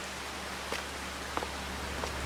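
Rain falling in the Farming Simulator 22 video game, a soft, steady hiss of rainfall with a few faint tapping drops, quiet and continuous.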